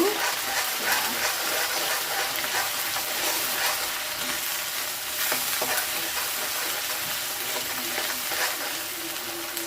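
Ginger and garlic sizzle in hot oil in a pan, a loud, continuous frying hiss with faint stirring clinks close by.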